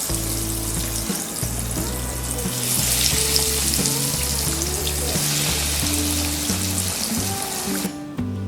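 Palak paneer tikkis frying in oil, a dense continuous sizzle and crackle, close and loud, with faint tonal background hum and no talking.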